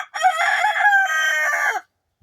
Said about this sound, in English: if somebody sees a chicken walking down the street